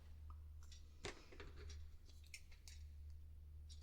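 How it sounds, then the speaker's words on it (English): Scissors snip the corners off an old plastic store card: a few faint, crisp cutting clicks scattered over a quiet background with a low steady hum. "Snip the corners off."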